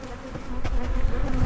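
Honey bees drone loudly inside a closed hive box, a thick continuous buzz heard up close for a brief moment.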